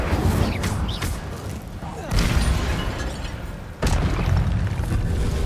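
A fire spell cast in the video game Hogwarts Legacy bursts out as a loud whooshing boom, then a second sharp blast follows, set against dense ongoing game noise.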